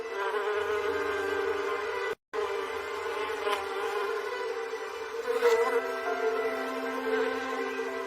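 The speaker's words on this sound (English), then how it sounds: "By late spring, our flower beds and borders are abuzz with bees." Bees buzzing among late-spring garden flower beds and borders, a steady insect drone holding throughout with a brief dropout partway, swelling slightly now and then as one passes closer.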